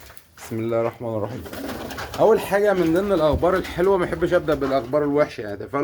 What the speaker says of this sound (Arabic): ده يا جماعه خير يمام بري محضنه تحت حمام بلدي